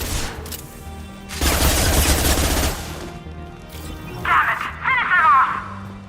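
Automatic gunfire bursts in a video game, a dense rattling volley lasting over a second, followed by scattered shots and clanking effects, loud and close.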